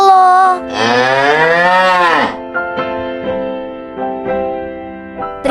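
A cow moos loudly and close by in one long, rising then falling call, followed by softer, shorter lowing sounds with no talk.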